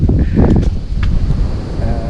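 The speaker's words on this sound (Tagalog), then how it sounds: "Nararamdaman mo yan pag lumakas yung hangin." Strong wind buffets the microphone at a campsite on the Marilaque Highway, with steady low rumbling gusts, a continuous roar filling the whole stretch with no talking.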